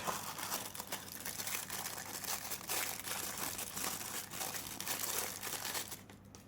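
Cardboard and plastic packaging on a Philips 7000 Series wet and dry trimmer box crinkles and rustles up close, with soft repeated handling noises that end in silence.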